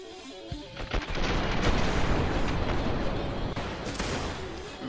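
A volley of rifles fires together in a military video game, dense overlapping gunshots building into a loud, sustained roar of reports and booms that rolls on for several seconds before easing off.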